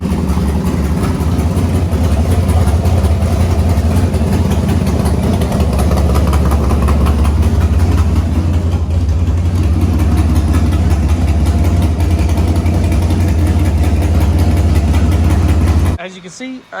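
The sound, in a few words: car engine started and idling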